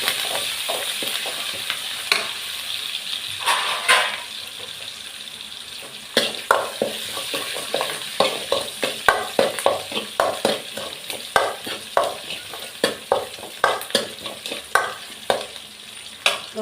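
Spices for a fish curry tempering in hot oil make a bright close sizzle, broken by repeated sharp scraping stirs that grow more rhythmic toward the end, with no voices.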